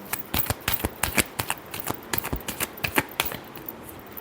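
Tarot cards are shuffled up close: a rapid, uneven string of sharp papery clicks and flicks that tapers off toward the end, with nothing else heard.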